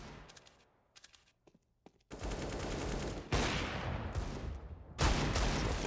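Counter-Strike gunfire on the Mirage map in a pro match, Deagle and rifle shots: a few sharp isolated shots at first, then loud sustained bursts of rapid fire that swell in waves toward the end.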